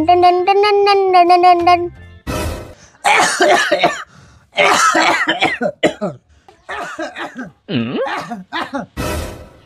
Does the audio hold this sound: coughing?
yes